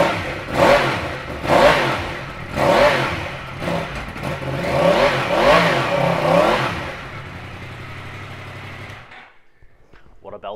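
A 2018 Yamaha MT10 ABS motorcycle engine starts up close by and revs hard several times in rising and falling bursts, then drops to a lower idle before abruptly cutting off.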